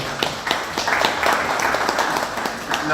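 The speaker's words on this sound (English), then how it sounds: "give her a hand round of applause for Dan Nainan coming all the way down here" A conference audience at TeslaCon Florida 2025 applauds a comedian, a dense, steady wash of clapping that holds for several seconds at moderate volume.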